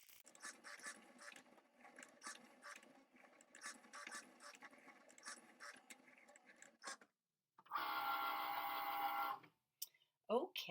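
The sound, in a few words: Cricut cutting machine cutting a design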